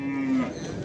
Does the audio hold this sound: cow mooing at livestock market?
yes